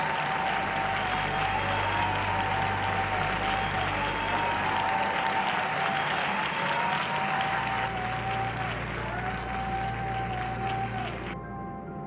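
A steady burst of crowd applause from a sound effect keeps a dense, even clatter of clapping for around twelve seconds before tailing off slightly at the end.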